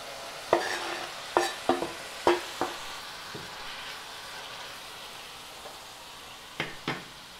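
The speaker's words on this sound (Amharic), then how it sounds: "ከዛ የከተፍነውንም ቲማቲም እንደዚህ ጨምረዋለን።" Chopped tomatoes stirred in a hot frying pan: a few sharp spoon-against-pan scrapes and clinks over a soft, steady sizzle, close up with no talking.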